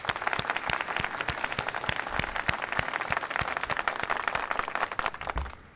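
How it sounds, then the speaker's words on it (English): Audience applause at the Global Innovation Summit 2016 inauguration, a steady burst of many hands clapping for a summit partner before tapering off, with a brief spoken thanks near the end. "please give a huge round of applause to our partner, Dubai SME"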